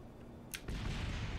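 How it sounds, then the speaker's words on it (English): A spacecraft crash-landing explosion in the game Kerbal Space Program, a brief sharp crack followed by a sudden deep rumbling boom that holds steady and loud to the end. "would not be Kerbal Space Program without an explosion-fraught landing"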